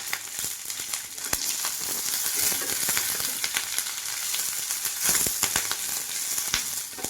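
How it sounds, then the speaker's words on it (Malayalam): Chopped ginger, garlic and green chillies sauté in a pan of hot oil with fenugreek seeds for a Kerala-style curry, giving a steady close sizzle with scattered crackles and pops throughout. "ഇനി നമുക്ക് അരിഞ്ഞു വെച്ച ഇഞ്ചി വെളുത്തുള്ളി പച്ചമുളക് അതും കൂടി ഒന്ന് വഴറ്റിയെടുക്കാം"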